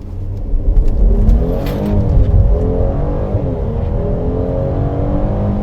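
A Mercedes-AMG GLC 43 crossover accelerates hard at full throttle, its engine note loud and close, rising steadily in pitch as the revs climb over several seconds with no talking.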